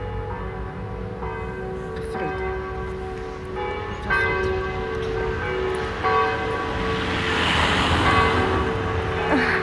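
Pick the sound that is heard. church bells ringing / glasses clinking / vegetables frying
church bells ringing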